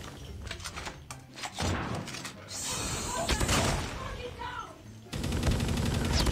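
Sharp shotgun blasts and scattered gunfire crack out in a Call of Duty Mobile bomb-mode match, with several loud bursts over about six seconds amid other game noise, while a player's voice talks at times.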